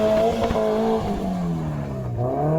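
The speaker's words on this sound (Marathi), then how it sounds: "हा गाडी फिरवणे याला म्हणतो." A car drifts on a muddy off-road track, its engine revving and sweeping up and down in pitch as it slides, loud and close, with no talk.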